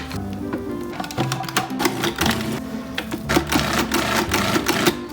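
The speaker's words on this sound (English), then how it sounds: "I like to do it in my food processor" Food processor whirring as it blends butter and cream cheese for a hamantaschen dough, a loud close motor buzz with uneven rattling pulses throughout, no talking.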